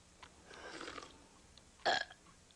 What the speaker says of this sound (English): We're having a burp contest